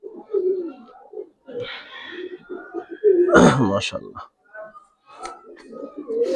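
Giribaz Pakistani high flyer silver pigeons cooing nearby, soft low coos interleaved with someone talking, plus a brief rustling burst midway.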